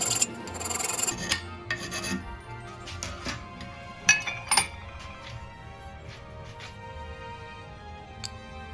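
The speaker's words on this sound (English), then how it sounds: "a little bit of filing, grinding, polishing" Hand filing of a homemade metal oil breather for a Triumph Bobber, made from old scrap: close rasping strokes in an uneven rhythm, with occasional metallic clinks and knocks, and no talk.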